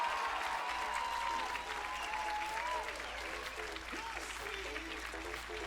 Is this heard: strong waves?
no